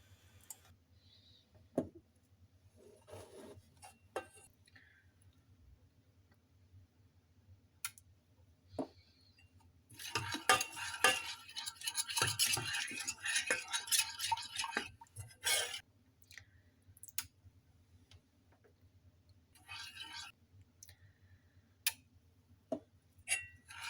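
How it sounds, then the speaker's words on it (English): White chocolate and coconut oil melting in a pan on low heat, stirred with scattered light clicks and taps of a utensil, with a denser burst of scraping and clattering in the middle, alone and close. "Start by melting white chocolate and coconut oil on low heat. Keep on stirring"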